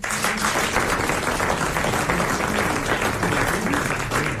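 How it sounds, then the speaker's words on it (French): A French TV game show studio audience in 1994 applauds a contestant's winnings, a dense, steady wash of clapping that holds at an even, full level throughout with no voices over it. "Madame Bordeaux a droit à vos applaudissements."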